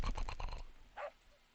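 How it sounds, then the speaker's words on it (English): A dog gives a short run of rough, muffled barking sounds up close, then one brief, faint yelp after a pause, with little else around. "That's a regular bark."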